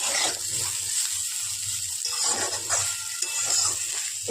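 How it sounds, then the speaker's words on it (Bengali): Potatoes and onion stalks fry in a kadai with very little oil, giving a steady close sizzle and occasional stirring scrapes with no talking. "বন্ধুরা দেখুন পেঁয়াজ কলি আলু ভাজা করছি একদম কম তেলে।"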